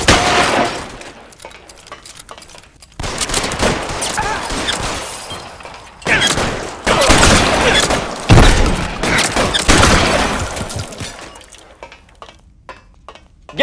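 Rapid bursts of gunfire from an L.A. Noire shootout, loud crackling volleys in repeated waves with sharp impacts, filling most of the stretch before tapering to scattered shots near the end.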